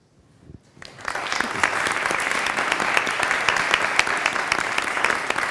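Audience applause at an investor conference, starting after a brief quiet moment and swelling into steady, dense clapping from a large crowd.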